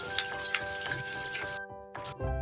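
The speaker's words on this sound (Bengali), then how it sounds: "তো চলো সবজিগুলো ভেজে নেওয়া যাক" Steady crackling sizzle of carrots and other vegetables frying in hot oil, continuous and close, with a brief dip before the sizzling picks up again.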